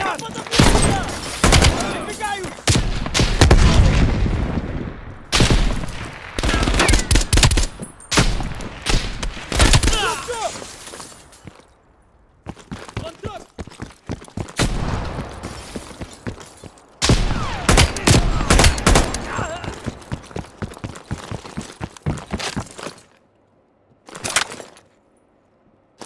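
Call of Duty Black Ops Cold War gameplay with rapid bursts of gunfire and heavy explosive thuds, including a grenade blast. The battle is loud and chaotic, with brief lulls and a game voice shouting between the shots.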